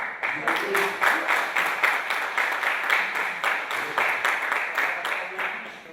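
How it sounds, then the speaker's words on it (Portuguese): Audience applause at a panel talk on capitalism, a crowd clapping in a steady dense patter of many hands that runs throughout at fairly loud level, with a voice speaking over it. "eu não gostei da receber essa aplauso, não"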